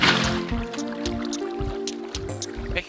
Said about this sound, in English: I'm filling in your water